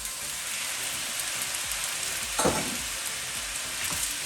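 Beaten eggs sizzle and crackle steadily in a hot pan for egg fried rice, a dense, even frying hiss with a brief louder burst partway through, close and with no voices.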